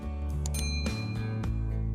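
A notification bell sound effect rings out as a few bright, quick chimes and pings over a sustained tonal backdrop, quiet and clean with no talking.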